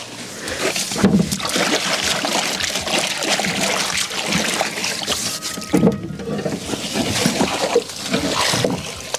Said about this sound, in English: There's water already here, but it's not clean. So let me pour it.